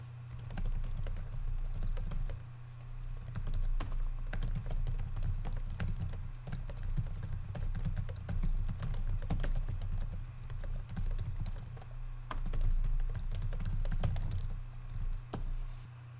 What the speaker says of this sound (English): Let's start by typing a description.